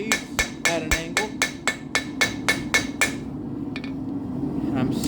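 A hammer bevels a hand-forged steel throwing spike on an anvil, ringing out in a steady run of about a dozen bright, close metallic strikes before the blows stop and a low background hum remains.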